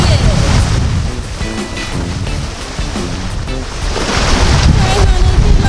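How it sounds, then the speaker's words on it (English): Strong wind of about 25 knots buffets across a tidal creek during a yacht race, with surging waves and rumbling gusts, loud and close, and a voice talking faintly underneath. "with the wind whistling through Hoo Creek, again, there were some pretty evil gusts"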